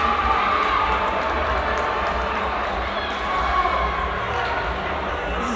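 Crowd at a Ugandan National Basketball League game between UCU Canons and KCCA Panthers, a dense, loud, sustained roar of cheering filling the arena, with a commentator's voice blended into the din.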